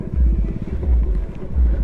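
Motorbikes revving and idling as riders squeeze them under a closed railway crossing gate, a loud close engine rumble that swells and dips in pulses, with no talk.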